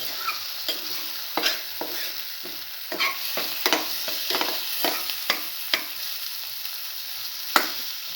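Scrambled egg and tomato mixture sautéing in a pan, a constant sizzle broken by repeated sharp scrapes and taps of a spatula against the pan at an uneven rhythm, close and clear with no voices.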